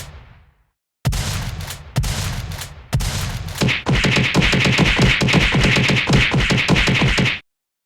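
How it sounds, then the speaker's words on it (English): A gunshot sound effect: three loud, separate shots about a second apart, then a long, rapid burst of automatic fire that stops abruptly. "Gunshot!"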